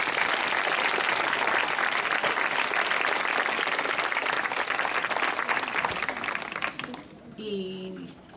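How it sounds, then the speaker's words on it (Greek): Applause from a garden theatre audience for a choir's founder, a loud sustained wash of many clapping hands that fades out near the end as a voice begins speaking alone. "θα ήθελα ένα πολύ μεγάλο χειροκρότημα"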